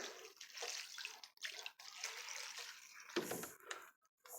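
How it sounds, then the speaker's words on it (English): A thin stream of distilled water is poured into a hot pot during herbal soup cooking, producing a soft, continuous splashing and trickling with brief pauses, close and fairly quiet. "So I'll just pour a little distilled water up in there."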